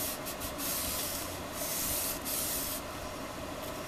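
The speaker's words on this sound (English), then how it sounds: "let me open it out so I can burnish it good" Paper folio being burnished by hand at a crafting table, a steady close dry rubbing and scraping hiss with a few stronger strokes, heard alone.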